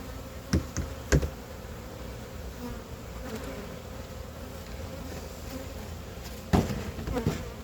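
Honey bees buzzing in a steady drone as they are shaken down from a hive frame during a June inspection, with a few sharp knocks and taps on the equipment and no talk.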